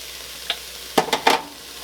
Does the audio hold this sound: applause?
no